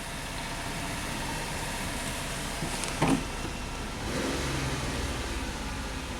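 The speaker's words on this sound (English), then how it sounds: "It's idling a little high." Dodge Caravan engine idling slightly high, a steady low hum with a brief clunk midway and a small rise in level afterward, continuous and fairly quiet.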